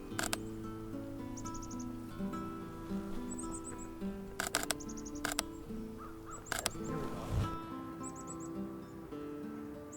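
Crows cawing in a snowy winter landscape, several harsh calls ringing out over a steady background hum, with faint chirps from smaller birds scattered throughout.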